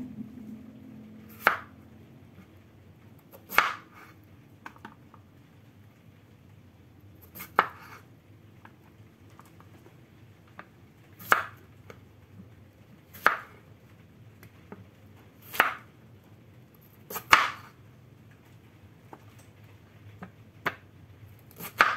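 Raw vegetables for lalapan being chopped on a cutting board, about ten single knife strikes spaced a couple of seconds apart, crisp and close against a quiet background.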